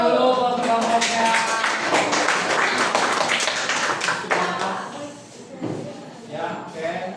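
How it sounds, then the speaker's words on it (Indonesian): Classroom applause for a student group after their presentation, a dense burst of many hands clapping that starts loud and thins out toward the end, with some voices mixed in. "Tepuk tangan dulu buat kelompoknya."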